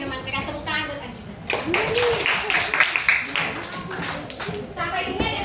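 A classroom of students claps for a classmate named Arjuna during a macro-teaching practice session, a short burst of mixed hand claps with chatter and a voice over it.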